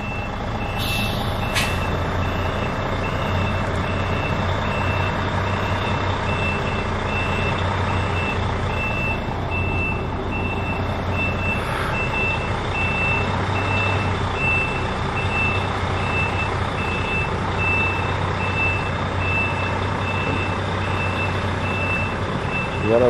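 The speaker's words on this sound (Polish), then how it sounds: "Teraz się nią przejedziemy do tyłu, do przodu, delikatnie" A bus reverses with a steady, evenly spaced reversing beeper sounding throughout, over a continuous low diesel engine rumble and occasional air hiss, with no talking.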